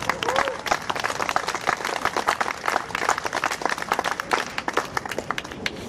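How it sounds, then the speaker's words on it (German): Crowd at an outdoor peace vigil on the street claps for itself, a scattered, uneven patter of hands at moderate distance lasting several seconds, with some voices mixed in. "gönnt euch selber mal einen Applaus"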